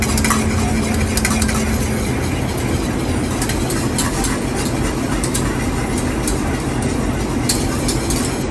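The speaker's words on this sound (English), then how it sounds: "we're going to stir that in slowly while our sauce is boiling to help thicken it" A spoon stirs cornstarch slurry into boiling lemon chicken sauce, giving a continuous bubbling, scraping texture of a busy pan at close range.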